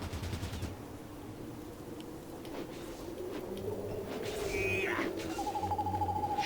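Gunfire in Fallout Tactics, short clattering bursts at the start and scattered shots later under steady game ambience and effects.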